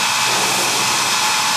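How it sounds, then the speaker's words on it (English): An electric fan set up for a science fair project blows air steadily, a loud, even broadband rush with no breaks, heard alone. "It's the fan, because more than half the fan's hitting this and bouncing back."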